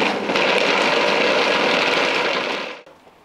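A kitchen mixer grinder coarsely grinds ginger, coriander and other ingredients for mutton kofta curry, a loud steady whirring roar that runs for nearly three seconds before cutting off abruptly.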